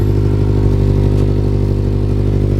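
A built Mitsubishi Evo X engine idles loudly and steadily up close, with a low throbbing drone and a faint ticking, puffing rasp from an exhaust gasket leak riding on top.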